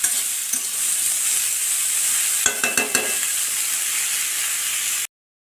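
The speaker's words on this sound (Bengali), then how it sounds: "আমি লাউটাকে ভেজে দিয়েছি, দিয়েছি জিরে আর পাঁচফোড়ন" Bottle gourd frying in hot oil with cumin seeds and five-spice, a loud steady sizzle with a few sharp clatters of stirring midway before it cuts off abruptly.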